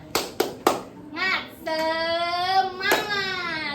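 Three sharp claps ring out in a quick rhythm, followed by children's voices chanting together loudly.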